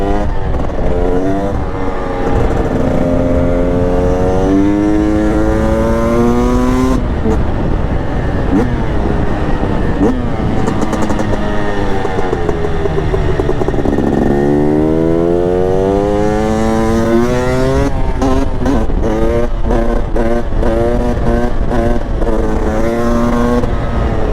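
A Husqvarna 300 TE supermoto two-stroke motorcycle revs up loud and close through several gears, its pitch climbing and then dropping at each shift, with a brief lull before it accelerates again.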